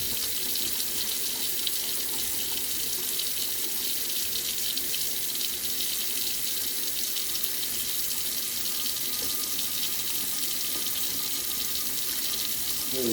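Water running steadily from a kitchen sink tap during a drain unclogging job, a continuous broadband rush lasting throughout with no talk over it.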